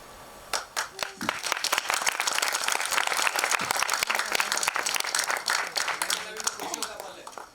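Loud, sustained audience applause fills a film trailer launch event, dense clapping continuing steadily throughout with some crowd noise mixed in.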